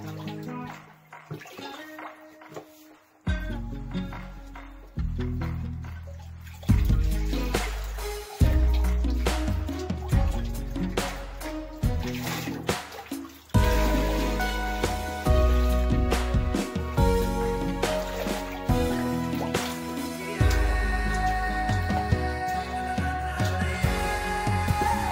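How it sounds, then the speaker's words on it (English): Floodwater is scooped from a flooded storm shelter and root cellar into a 5-gallon bucket, repeated sloshing, splashing and trickling strokes in an irregular rhythm, close and fairly loud, with drips between scoops. "knowing that I would have more water to bail out of here as the ground continues to dry out"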